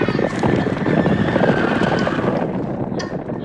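A horse draws near in a radio play scene, a whinny riding over a steady wash of hoofbeats and wind-like noise, fairly loud and continuous throughout.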